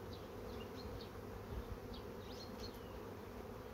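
Honey bees buzz at an open hive while frames are being handled, a continuous low droning hum with a few individual bees whining past close by.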